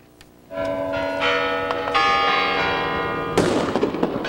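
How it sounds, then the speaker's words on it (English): Kremlin bells on Red Square strike midnight on New Year's Eve, a loud layered peal of ringing tones with long sustained overtones. Bursts of fireworks and crowd noise crackle in behind them toward the end. "As the Kremlin bells struck midnight, thousands on Red Square celebrated the start of 2006."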